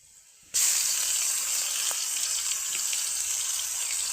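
Garlic paste hits a hot pan of panch phoron spices while singara filling is cooked, setting off a sudden loud sizzle that holds steady and hissing through the rest, with no talk.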